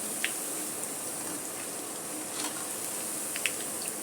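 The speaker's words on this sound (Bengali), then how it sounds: "আমি এভাবে উল্টিয়ে পাল্টিয়ে এগুলি ভেজে নেব।" Piyaju onion fritters deep-frying in oil as they are turned over, giving a faint steady sizzle with a few soft clicks and scrapes of the utensil, quiet and alone.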